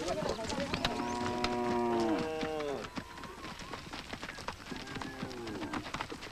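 Maasai cattle leave a thornbush enclosure to graze in the Serengeti, with several drawn-out moos overlapping, close and fairly loud. Outdoor ambience and scattered knocks and thuds continue underneath.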